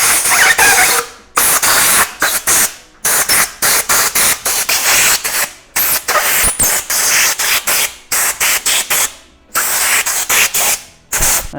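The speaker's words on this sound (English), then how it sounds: "Vault's got this handy-dandy air compressor. Shoot some air right in there and the grips should slide on." Loud bursts of compressed air from a shop air compressor nozzle blast into scooter grips to slide them onto the bars during a pro scooter custom build, repeated hissy sprays with short gaps, no talking.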